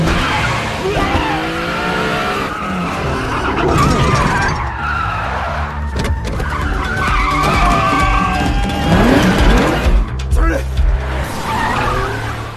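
A car in a film chase peels away with loud tire squeals and skidding over a roaring engine, sustained and dense for the whole stretch, with a narrating voice over it.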